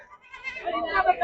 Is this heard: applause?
no